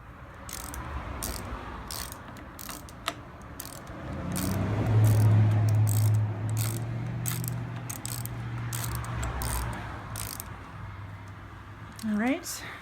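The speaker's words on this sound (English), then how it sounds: "Just got to finish putting this Torx screws back in." A ratchet clicks in steady repeated strokes, tightening Torx screws on a Harley-Davidson LED turn signal mirror assembly, close and fairly loud, with a mechanical rattle and a low hum underneath.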